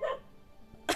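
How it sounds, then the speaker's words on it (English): A dog barks nearby in a home during a game stream, one short loud bark at the start and another sharp one at the end, with a quiet room between them. "See this dog. Always bark whenever I stream."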